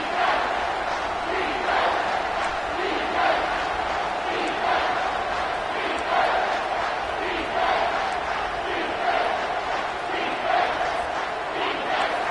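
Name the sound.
football stadium crowd getting loud on third down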